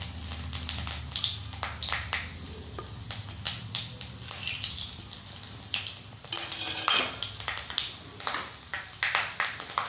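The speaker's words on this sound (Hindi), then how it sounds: "जो हमने ये हींग, जीरा और मेथी लिया है इसको डाल देंगे इसमें" Asafoetida, cumin and fenugreek seeds hit four spoons of hot oil for kadhi pakoda, giving a close, crackling sizzle punctuated by sharp pops and spoon-against-pan clinks throughout.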